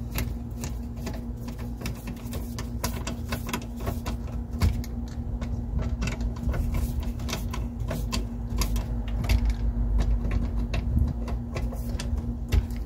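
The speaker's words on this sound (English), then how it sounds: "I'm going to tighten this screw back" Screws being tightened on a Winnebago RV dump valve, faint irregular clicks and ticks over a low steady hum, close by and quiet.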